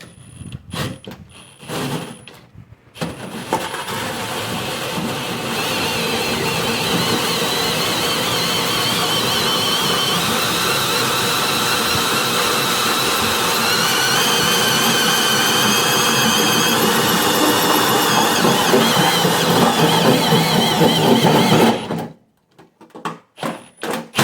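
A Mitsubishi MN Triton fitted with a Safari snorkel pulls away in first gear: a steady, loud engine and drivetrain roar rising over about twenty seconds, with clunks and rattles before and after, heard up close without talk.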